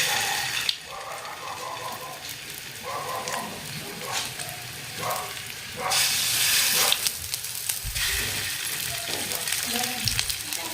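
Chicken seekh kebabs fry in oil in a pan over medium-high flame, a continuous close sizzle and hiss with occasional stirring scrapes and bursts of louder spitting.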